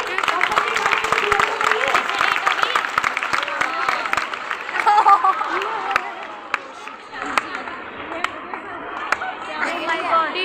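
Applause and cheering from a crowd at a school's annual sports meet race, many hands clapping over continuous chatter and shouting.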